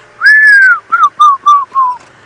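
A person whistles an imitation of an African fish eagle's call: one long falling note followed by four shorter descending whistled notes, close and clear with no talk.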